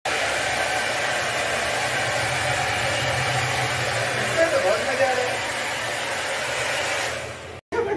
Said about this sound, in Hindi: भैया ड्रायर चला दीजिए तो बाल सारा गिर जाएगा